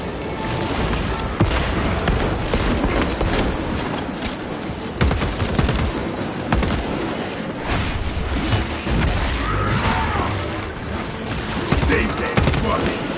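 Frag grenade blasts erupt amid dense gunfire in the Space Marine 2 video game, a sustained barrage of sharp booms and rapid shots at moderate loudness.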